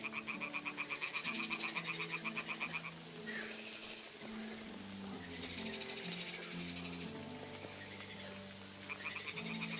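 In Kingdom Come: Deliverance 2, toads by a pond croak in pulsing rapid trills that come in bursts and pause, set against a gentle musical backdrop.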